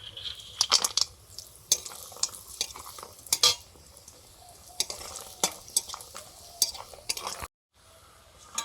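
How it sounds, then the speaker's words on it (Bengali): Homemade urad dal bori (lentil dumplings) frying in hot oil, a soft steady sizzle broken by repeated clinks and scrapes of a spatula against the pan, close by with no talking, then a brief silent cut near the end. "এগুলো বাড়িতে তৈরি বিউলির ডালের বড়ি ভেজে নিচ্ছি"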